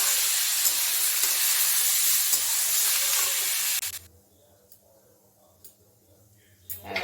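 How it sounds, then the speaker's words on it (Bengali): Raw rice fries in a pot on a gas flame turned low, a loud even hiss for about four seconds that cuts off sharply into near quiet with a few faint ticks. "চালটা দিয়ে আমাকে একটু ভাজতে হবে"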